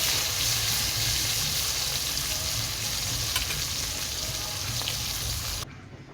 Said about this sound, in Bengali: আর এই যে লাল লাল করে মাছ ভাজা হয়ে গেছে